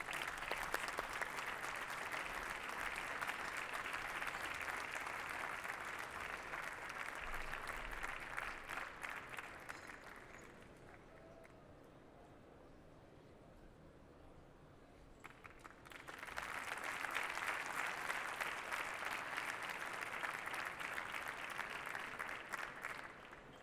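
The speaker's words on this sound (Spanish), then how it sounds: "un aplauso para Correduría La Vieta" Applause from an audience at a brokerage association's sixteenth anniversary event, a long even roll of many hands clapping that fades to near quiet midway, then swells again strongly, with no talk over it.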